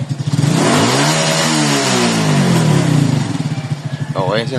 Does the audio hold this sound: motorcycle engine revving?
yes